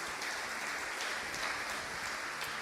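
A church congregation applauds in a steady, even wash of clapping that sounds fairly distant and soft, with no voices standing out.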